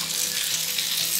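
Precooked beef frying in a pan for a Kerala-style beef fry, a dense, loud, steady sizzle heard up close with no voices.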